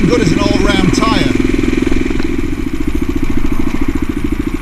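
A new CCM Blackout motorcycle rides along the road, its engine giving a steady, throbbing drone close up while someone talks over it.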